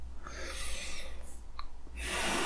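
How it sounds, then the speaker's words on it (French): A meditation guide draws a slow, deep breath, a soft airy inhale followed by a fuller, louder exhale near the end, close and intimate with no other sound. "On peut prendre une grande respiration comme moi."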